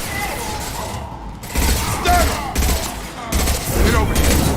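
High-impact gunshots from Mass Effect 2 combat crack out in a few loud bursts over a constant backdrop of battle noise, with voices and other game sounds mixed in.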